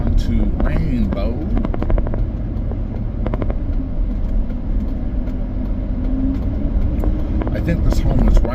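A car drives along suburban roads in Rancho Santa Fe, turning onto Rainbow, giving a steady, close low engine and road rumble that runs throughout, with a few faint clicks and knocks on top.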